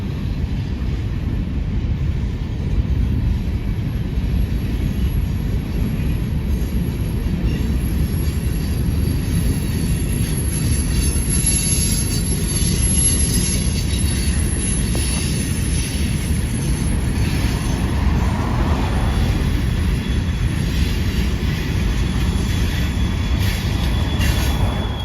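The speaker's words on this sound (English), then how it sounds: "Quite a lot of CSX boxcars in this one." A long CSX freight train made up of boxcars rolls past close by, with a steady heavy rumble of wheels on rail and high metallic squeals from the wheels, and no voices.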